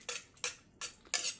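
A utensil scrapes and stirs adobong kangkong with soy sauce in a pan, four crisp scraping strokes in a steady rhythm, close and fairly clear with no talking.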